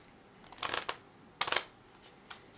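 A deck of tarot cards is shuffled in two short riffling bursts, followed by a faint flick at the end, heard up close and quietly.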